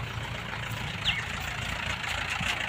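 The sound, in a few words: tractor engine idling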